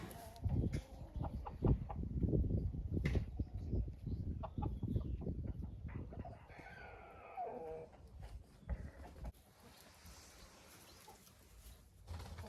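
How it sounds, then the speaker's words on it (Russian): Crested hens in a henhouse give faint, scattered clucks amid rustling straw and shuffling footsteps, the handling noise louder at first before quieter bird sounds come through. "Иду к чубатым курочкам."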